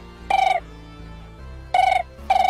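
A mobile phone rings in three short, bright electronic bursts separated by pauses, loud and close over a quiet room, with no talking.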